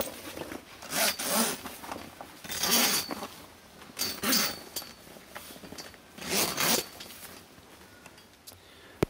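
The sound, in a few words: zipper being pulled across canopy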